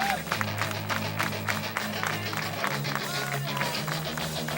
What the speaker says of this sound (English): clap with me